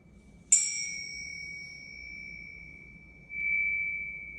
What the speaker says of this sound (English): our chimes will support us in this transition.